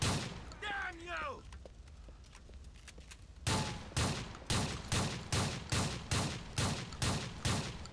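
A shotgun fires in Grand Theft Auto 4 during a shootout with men near vans. After a brief whistling noise and a quieter stretch, about ten loud, sharp blasts follow at an even, rapid pace.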